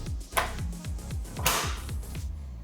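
A house door is pushed shut and its latch mechanism seats by itself without the handle being turned, giving a close knock and a clack, then a second solid thump over a low background rumble.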